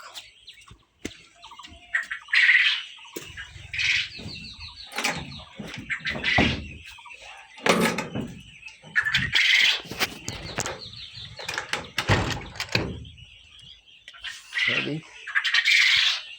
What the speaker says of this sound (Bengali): এই যে দেখবেন ঘনত্বের কারণে এই যে ঠুকরি করছে, ঠুকরি করে এগুলো মেরে ফেলে।